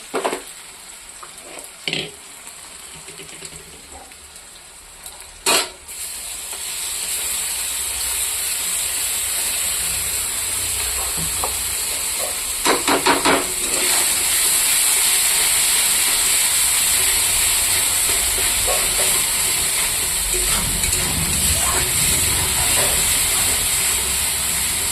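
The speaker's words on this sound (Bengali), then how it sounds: "মশলাটা একটু ভাজা ভাজা করব।" Spices sizzling in hot oil in a pan with browned onion for a rohu fish curry, a few sharp clicks at first, then a steady loud frying hiss that continues throughout.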